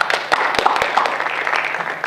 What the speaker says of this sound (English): Do you guys all want to give them one more round of applause real quick?